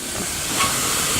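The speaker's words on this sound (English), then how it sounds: "So you hear the sizzle." Meat sizzles on a hot barbecue grill at about 350 degrees, a steady close hiss filling the moment with no voices.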